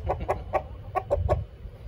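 A chicken caught with a chicken hook clucks six times in short, fairly even bursts over low background rumble.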